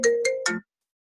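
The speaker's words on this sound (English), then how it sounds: "I'm getting a phone call." Phone ringtone of an incoming call, three short bright melodic tone bursts in quick succession, close and clear, then silence.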